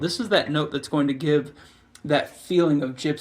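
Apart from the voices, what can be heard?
No everyday noises stand out.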